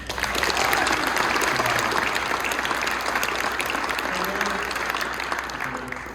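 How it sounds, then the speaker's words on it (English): At a military retirement ceremony, an audience gives a steady round of applause for a sergeant, dense full clapping that holds evenly before easing off, with faint voices mixed underneath. "Let's get a round of applause for him"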